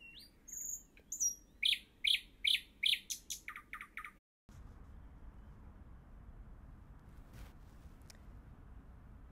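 Small birds sing and chirp outdoors at night near a Copenhagen harbour, a burst of bright repeated phrases up close that stops abruptly, leaving a quiet hiss of open air with only faint distant sound.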